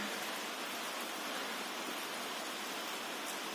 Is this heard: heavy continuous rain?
yes